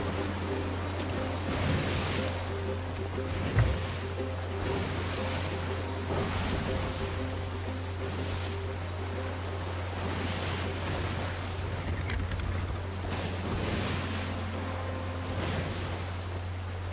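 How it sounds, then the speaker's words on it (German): Ocean waves surging and washing in the Sea of Thieves game, a steady broadband swell with rolling rises and falls under a constant low hum, no talk. "Diese scheiß Wellen manchmal."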